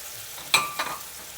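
Ramen noodles sautéing in a pan with butter, mushrooms and garlic, giving a quiet sizzle with two brief stirring scrapes close by, no talk.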